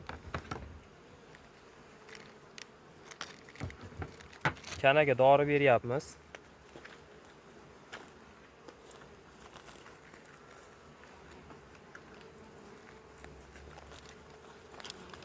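A honeybee buzzes loudly and close for about a second, its pitch wavering, during treatment of a beehive against mites, while someone talks before and after.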